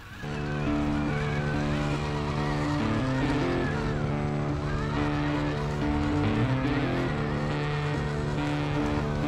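A 6x6 Unimog off-road truck with bespoke cantilever suspension labours uphill, its engine droning loud and steady with pitch rising and falling as wheels slip and rev, close and continuous.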